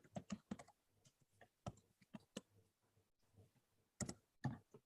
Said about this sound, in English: You guys can maybe see what I'm typing in.